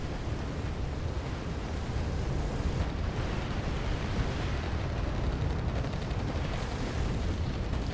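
Bombs explode in a dense, continuous rumble of battle during a large multiplayer match of the war strategy game Wargame AirLand Battle, with heavy booms and crackling blasts running together for the whole stretch.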